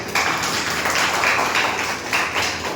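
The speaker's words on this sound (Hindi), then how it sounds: "तो एक बार BMW के लिए जोरदार तालियां बजाइए" Audience applause for a BMW reward at a business-plan meeting, a dense steady wash of clapping from a crowd that runs unbroken through the whole stretch.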